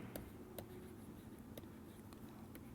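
Faint pen or chalk taps while a probability formula is written in a lecture, several soft ticks spaced irregularly over a low background hum.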